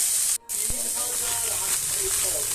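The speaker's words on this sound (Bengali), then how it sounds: "টমেটোটা দিয়ে ভালো করে নেড়ে চেড়ে নিয়ে হালকা করে একটু আদা রসুন দিয়ে ভালো করে একটু ভেজে নেব" Tomato, ginger and garlic fry in a pan, giving a steady close sizzle and hiss that runs almost without a break, apart from one short gap near the start.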